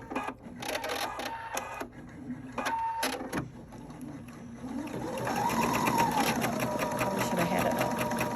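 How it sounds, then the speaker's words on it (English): Husqvarna Viking Topaz 40 embroidery sewing machine stitching a basting outline around a design, with quick starts and clicks first, then a steady rapid mechanical whirr that swells and keeps running close by. "I'll just click the start stop and the machine will do the"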